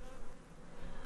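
Honeybees kept by a Chinese beekeeper near sprayed apple orchards give a continuous, faint, dense buzzing hum, steady throughout the brief moment with no voices.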